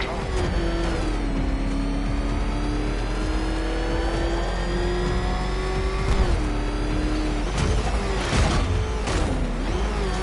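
Car engine revving and accelerating in the Batman: Arkham Knight video game, a loud sustained motor whine rising and falling in pitch, with game voices and effects mixed over it.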